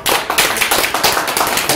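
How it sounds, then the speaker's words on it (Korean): Warm applause from a church congregation at a Korean presbytery New Year gathering as the presiding pastor comes forward, a dense, steady patter of many hands clapping close and loud throughout. "우리 시찰장님 나오실 때 뜨거운 박수로 한번"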